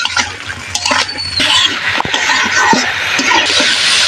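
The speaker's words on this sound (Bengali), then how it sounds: "তরকারিটা ভালোভাবে কষিয়ে নেওয়ার জন্য আমি কিছুটা পানি দিয়ে দিলাম" Water poured into a pan of curry of taro and cauliflower as it cooks, a splashing, hissing burst with stirring clatter, close and fairly loud, without talk.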